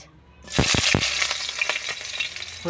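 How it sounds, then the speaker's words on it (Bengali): Potatoes dropped into hot white oil in a wok, setting off a loud, steady sizzle after a brief quiet start, with a few sharp clatters as they land. "এবার কড়াই আলুগুলো দিয়ে দেবো।"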